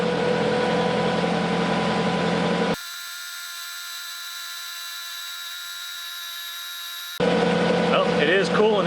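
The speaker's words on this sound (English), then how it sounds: "So I'm going to turn the fan on." An electric cooling fan on an oil cooler switches on and runs with a steady, even whir and a constant tone, fairly close and without talk, between stretches of engine and workshop noise.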